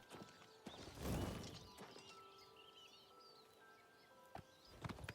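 A horse's hooves clop along a road in Oblivion Remastered, faint and distant with sparse, uneven footfalls and a louder thud cluster, over a quiet ambient bed with birdsong.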